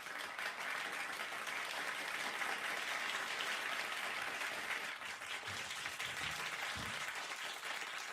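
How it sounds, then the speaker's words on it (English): A studio audience applauds at a late-night talk show, steady dense clapping filling the whole stretch at an even, moderate level with no voices over it. "But round of applause to the audience"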